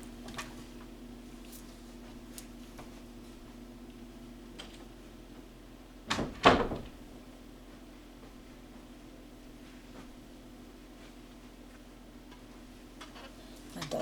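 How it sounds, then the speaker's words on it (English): A bedroom door pushed shut indoors, giving a pair of quick, close thuds midway through a long quiet stretch of steady room hum and faint sporadic ticking. "I have to shut my door."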